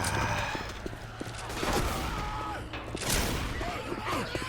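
Bursts of gunfire crackle in a zombie shooter game, Left 4 Dead 2, loud and repeated in clustered volleys over a noisy background of in-game action, with some faint character voices mixed in.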